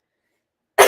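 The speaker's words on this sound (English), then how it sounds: "I still have a cough." A single harsh cough bursts in near the end after near silence, close and loud, from a person recovering from COVID.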